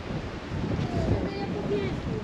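Strong wind buffets the microphone on a very windy day at the Baltic seaside in Dziwnówek, with broad roaring noise of big waves and surf throughout and faint voices in the background.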